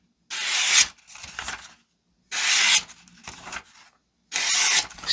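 A 3.8-inch paring knife from a budget 15-piece knife block set slices through mushrooms in three separate bursts of close, crisp cutting strokes. Short quiet gaps fall between the bursts.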